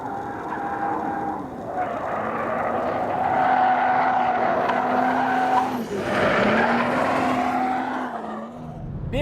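A 2014 BMW M235i coupe accelerates hard through the gears, its engine note climbing steadily, dropping at each shift and rising again, loud and close for several seconds before easing off at the end.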